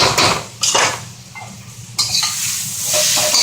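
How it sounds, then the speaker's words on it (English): Pad thai noodles with shrimp, tofu and vegetables get stirred in a hot wok, with loud scraping utensil strokes and clanks against the metal over a constant sizzle, in several bursts close by. "So we'll stir them up a little bit with the vegetables."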